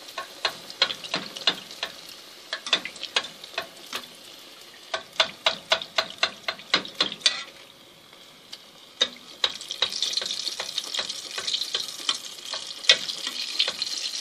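Samsa pastries fry in hot oil with bursts of crackling and popping, sharp sizzling spits arriving in rapid clusters, pausing briefly, then resuming over a constant close bubbling hiss, and no voices.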